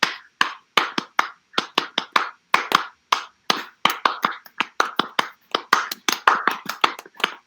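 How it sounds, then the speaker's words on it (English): A group performs a rhythmic school spirit clap at a computer school's all-school meeting, crisp hand claps in a steady syncopated pattern with short pauses between bursts, loud and close with no voices over them. "to close off our all-school meeting, here's A-Day with the Computer School Spirit Clap"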